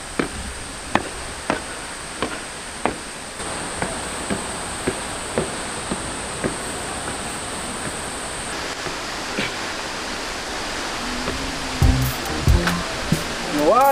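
Water pours in a steady loud rush as someone bathes, with regular sharp splashes or knocks punctuating it and a few tonal squeaks near the end.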